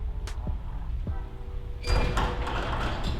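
A Guardian side mount garage door opener with a Model 928 keypad closing the door: a few faint clicks and beeps, then a louder mechanical whirring rumble that starts partway through and continues, heard nearby with no talk.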